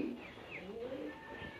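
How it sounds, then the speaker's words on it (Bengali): A hungry young Jalali pigeon coos softly in a short, close call, with faint chirpy tones over a steady low background hum. "এটা কিন্তু বাচ্চা একটা কবুতর, অনেক বেশি ক্ষুধার্ত দেখা যাচ্ছে"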